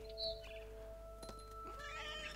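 A short cat meow in the video game What Remains of Edith Finch, a single faint mew rising over a quiet hum of game ambience, with a second soft cry near the end.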